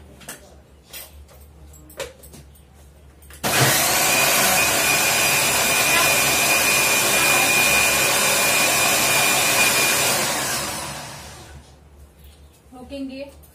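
A kitchen mixer grinder runs for about seven seconds to froth a drink, a loud steady whirring roar that starts abruptly and winds down, with brief sounds before and after.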